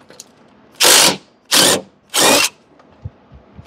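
Three loud bursts of a power tool, likely an impact driver, loosening the last bolt on a Briggs & Stratton Intek riding mower, each roughly half a second long with short gaps, followed by a couple of faint knocks.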